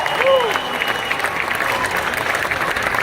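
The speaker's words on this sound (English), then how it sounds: "How about one more big round of applause for all these dignitaries who've come out for this special announcement." Crowd applause at an outdoor stage announcement awarding the All-Star Game to the Atlanta Braves, steady broadband clapping lasting the whole moment with a brief whistle or cheer near the start.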